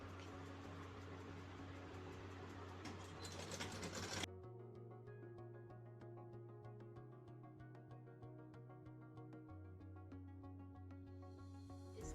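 Electric sewing machine stitching a blouse neckline at the buckram corner, a steady motor hum with rapid repetitive needle ticks, louder at first, then a lower steadier run after a pause.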